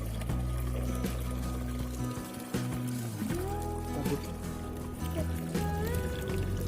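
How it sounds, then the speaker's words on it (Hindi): Water pouring from a small pump on a homemade DIY air cooler, a continuous splashing trickle with a steady low hum underneath and a brief dip partway through. "इस कूलर पंप को मैं स्टार्ट करता हूँ और ये बिल्कुल वर्क कर रहा है। यहाँ पे आप देख सकते हैं ये पानी बाहर आ रहा है।"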